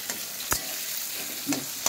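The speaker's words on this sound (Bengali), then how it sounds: "এটা আমার ভাজা হোক, জোরে আঁচটা করে ভাজবেন" Cauliflower and potatoes sizzle steadily in hot oil over high heat, with a few clinks and scrapes of stirring punctuating the frying.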